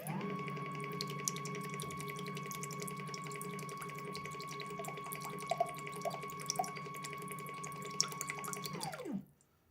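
An infiltrometer pump purges water through a line with a steady mechanical hum and whine for about nine seconds. Faint drips and small clicks sit on top, and then the pump winds down and stops.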